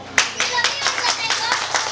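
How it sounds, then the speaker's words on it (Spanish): Clapping for a child at a school farewell celebration, a small group of hands clapping close by in a quick irregular rhythm, with voices mixed in. "¡Aplauso para el niño!"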